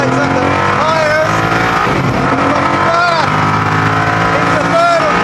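A Koenigsegg Agera R with traction control off launches hard in first gear, its engine roaring loud and close while the tyres squeal and spin, the engine note climbing and dropping through the gear changes.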